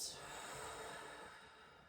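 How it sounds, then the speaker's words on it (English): A deep, slow exhale during a breathing exercise in a hip myofascial release stretch, a soft, airy breath out heard close and alone, gradually trailing off. "So ready for 2 deep breaths here, breathing all the way in"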